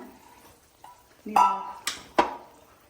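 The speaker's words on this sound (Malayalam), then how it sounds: "അതൊന്ന് ഇളക്കി കൊടുക്കാം" A spoon scrapes and knocks through cooked, salted green peas in a pan, three or four sharp clanks close by over a faint background.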